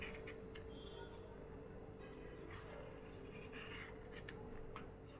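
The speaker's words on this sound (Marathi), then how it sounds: "याची आपण अशी सालं काढून घेत आहोत" A peeler scrapes the skin off a raw green mango in a kitchen, giving a soft, steady, continuous rubbing with faint clicks, close but quiet, without talk.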